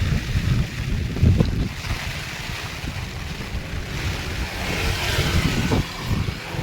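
Steady rushing flood water roars continuously under a bridge, mixed with gusty wind noise buffeting the microphone, with no voices.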